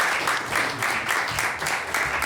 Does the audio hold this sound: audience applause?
yes